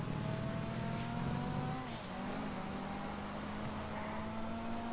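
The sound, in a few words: car engine and tire squeal in video game GTA V Online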